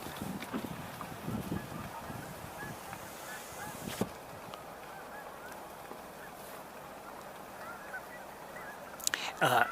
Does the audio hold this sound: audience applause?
no